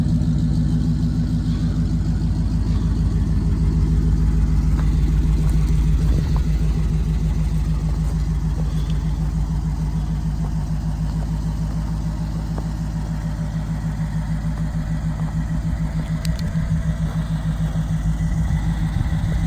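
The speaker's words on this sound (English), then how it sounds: "The flathead sounds pretty cool." The flathead V8 of a 1938–1939 Ford two-door hot rod idles with a steady, low, throbbing rumble that holds unchanged from start to finish, close and fairly loud.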